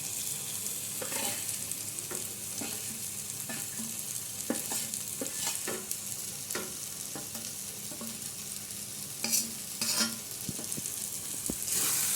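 Tomatoes fry with turmeric, masala and salt in a pan, giving a continuous close sizzle. A spatula taps and scrapes in irregular strokes throughout, with a busier flurry of stirring near the end and no speech.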